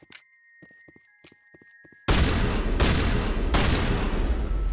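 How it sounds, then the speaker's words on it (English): Three loud, booming shotgun blasts in the Mass Effect video game, fired in quick succession after a couple of seconds of quiet clicking and faint game sounds. "I think I'll switch to the shotgun"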